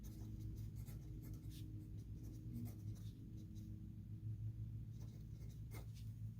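Pen or pencil writing on paper during a geometry lesson, a steady faint scratching that runs throughout over a low background rumble, with no talk.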